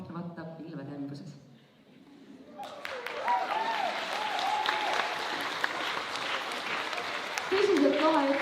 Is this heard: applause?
yes